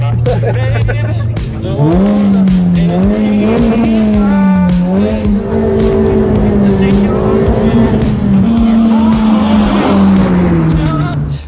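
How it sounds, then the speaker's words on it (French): A Renault Twingo RS, a light car running on gas, revs hard with a loud, close, sustained engine howl that climbs and wavers at high rpm for most of the stretch, with a voice heard briefly over it. "Ah, elle se lance dans les tours."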